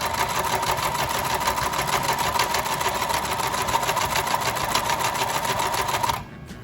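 A sewing machine stitches zigzag through several layers of fabric while building a homemade baker's tent, running in a fast, even mechanical whir for about six seconds before stopping abruptly, close and steady with no talking.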